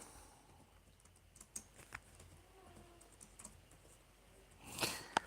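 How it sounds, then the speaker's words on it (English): Typing on a laptop keyboard, sparse light keystrokes tapping quietly and irregularly, close by in a quiet room, ending with a brief louder rustle. "Just typing something on my laptop also"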